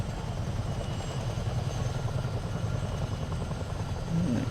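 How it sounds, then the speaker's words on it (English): Chinook CH-47 helicopter in Microsoft Flight Simulator, a steady dense rotor and engine roar that stays loud and continuous throughout, with no talking. "the sound of this Chinook is quite therapeutic"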